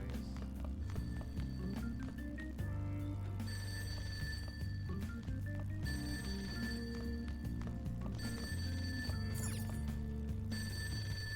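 A telephone rings in the video game Persona 5, its bright repeated tones sounding in bursts over steady in-game music, with no voices.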